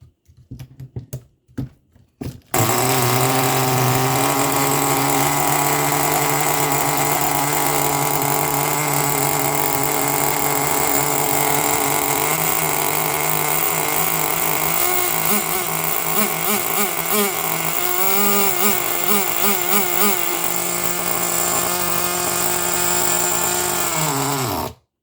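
A primed nitro engine in an RC vehicle idles after long storage, giving a steady, loud, high buzzing drone that wavers in pitch near the end before cutting off abruptly, with a few sputters at the start.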